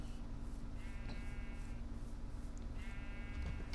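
Sheep bleating in Minecraft, two drawn-out wavering bleats a couple of seconds apart over a steady low background hum, no talk.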